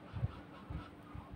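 Domestic poultry, geese or ducks, being herded into their shed in a village: several low, soft honks spaced about half a second apart, fairly faint against a muffled background.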